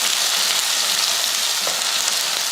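Mustard seeds, shallots and garlic tempering in hot oil for sambar give a steady, close, loud sizzle with fine crackling throughout, no voices.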